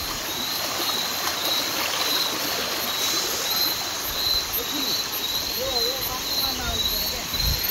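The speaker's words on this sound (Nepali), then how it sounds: "यो खोला भयो उता कत्रो छ त पानी" A stream in rural Nepal flows with a steady, continuous rush of water throughout, joined by a faint high insect-like whine and soft background voices.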